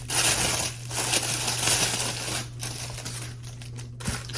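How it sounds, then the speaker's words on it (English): Plastic packaging from a subscription box item being torn and unwrapped close up, a run of crinkling and crushing rustles over a steady low hum, with a few sharper snaps near the end. "So let's unwrap it here."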